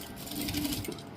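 A sewing machine stitching a blouse panel, running in one brief continuous burst with a steady, close mechanical whir, no speech.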